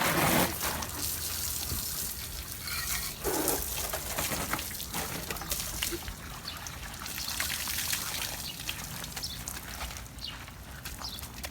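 Steady running water, like a hose or tap, washes down a car caked in mud from an off-road trip to the hills. The splashing hiss continues throughout with no talking.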